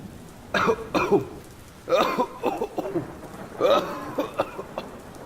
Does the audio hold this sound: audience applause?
no